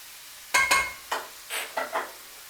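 Taco-seasoned food cooking in a pan, heard as a few scraping stirs and brief sizzling bursts in quick succession over a quiet background hiss, close up and with no talking.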